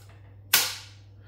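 A residual current circuit breaker on an electric vehicle charger trips during a test, giving one sharp, loud snap that decays quickly over a steady low mains hum, with no talking.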